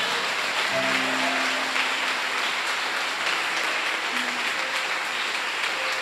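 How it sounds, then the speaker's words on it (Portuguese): Congregation applause at a church service, a continuous dense patter of clapping at even level with faint tonal voices or sustained notes briefly underneath. "Aplaude a Jesus aí."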